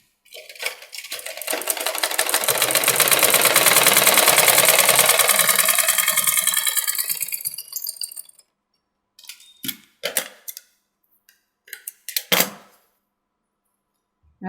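A sewing machine runs a double line of stitching along a blouse seam, one sustained whirring burst of about eight seconds that swells and fades, followed by short scattered clicks and handling noises, no voices.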